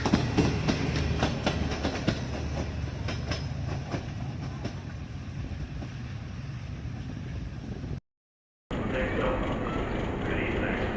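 Greenline Express, a Pakistani premier train, running at Rawalpindi Station in rainy weather, a steady broadband rumble of rolling wagons with rhythmic clicks and rain-like hiss, loud and continuous, with a short dropout near the end.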